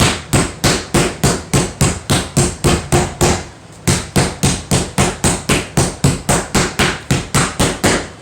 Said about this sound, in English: Now, when you're pounding out meat, you always want to start from the center and work your way out to an edge.